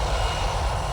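An AirAsia airliner's engines roar loud and steady on the runway during a takeoff attempt after an earlier emergency brake, a continuous broadband rumble with no talk.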